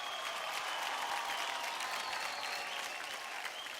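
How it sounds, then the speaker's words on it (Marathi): A television studio audience breaks into a steady, dense round of applause honoring the late actor Laxmikant Berde, the clapping continuous and even from start to finish. "लक्ष्मीकांतजींसाठी एकदा जोरदार टाळ्या होऊन जाऊ द्या."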